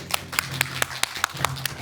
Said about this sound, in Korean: 큰 박수를 맞아주시면 감사하겠습니다